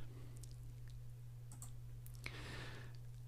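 A few soft mouse clicks sound while saving a file in Photoshop Elements, small sharp ticks over a quiet electrical hum in a still room.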